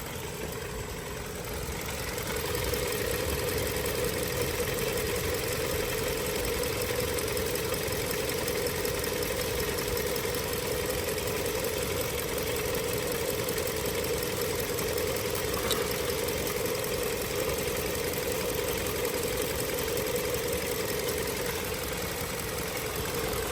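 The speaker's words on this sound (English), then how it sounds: "You can see how quiet the engine is." A car engine idles steadily and smoothly after an oil additive treatment over 1,000 miles, a constant even hum with no change in pitch or rhythm throughout.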